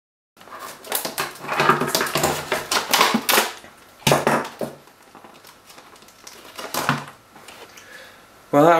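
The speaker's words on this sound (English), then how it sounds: "So let's give this tin opener trick a go." Scraping, clattering plastic packaging being cut with a metal tin opener, rapid clicks and crunches in bursts, with pauses and a louder rattle near the end.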